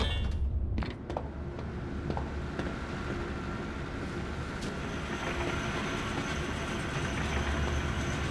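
A gadget trolley rolls along rails in the Zoochosis video game, giving a steady, close metallic rumble with faint clanks and clicks that runs unbroken for several seconds, with no voices over it.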